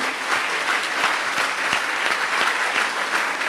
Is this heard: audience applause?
yes